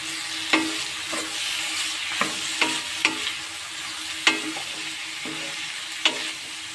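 Cut bitter gourd sizzles steadily in a hot pan with tomato, while a spoon scrapes and stirs it in about nine sharp, irregular strokes over the constant frying hiss.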